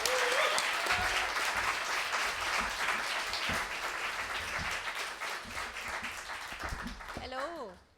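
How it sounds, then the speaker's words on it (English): Sustained audience applause for Francesca Maxwell, art director, fills the hall at a stage event, holding steady and then fading at the end as a voice begins. "please give a very, very big round of applause for Francesca Maxwell"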